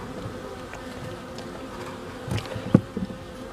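Honey bees hum around a hive frame in a steady, close drone, with a few louder buzzes as individual bees pass near.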